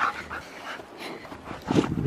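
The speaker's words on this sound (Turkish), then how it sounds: "Oh, dünya güzeli, dünya güzeli bir köpek." A dog close by gives a few soft whimpers and yips, ending in a louder burst of barking or panting, with no talk over it.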